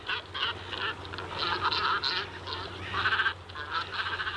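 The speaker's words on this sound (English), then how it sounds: "At Leplaplassen, around 50 pairs breed among the reed beds, alongside a colony of cormorants." A colony of cormorants calls at a reed-bed breeding site on the coast in mid-May, with dense, overlapping harsh honking and croaking voices rising and falling continuously at moderate distance.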